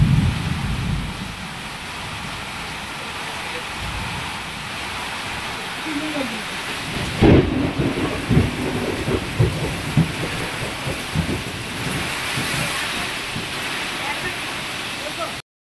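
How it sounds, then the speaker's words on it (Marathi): Heavy monsoon rain pouring down in a village, a dense steady roar with rumbling low bursts like thunder and some louder splashy swells partway through, no speech. "त्या दिवशी अगदी खतरनाकच पाऊस पडलं।"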